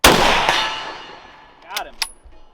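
Krag-Jorgensen rifle shot, a sharp loud crack that fades out, followed by faint metallic pings and clangs from a struck steel target at a distance.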